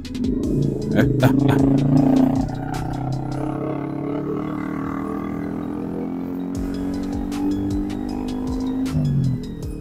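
A Yamaha Sniper 155R motorcycle rides along an open road, its engine droning steadily with rising and falling pitch as the rider shifts. Wind rushes throughout, and a voice speaks over the engine.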